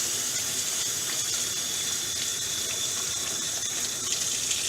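Tap water runs steadily into a sink while a rainbow whiting is rinsed after scaling, a continuous close hiss and gush of flowing water with no talk.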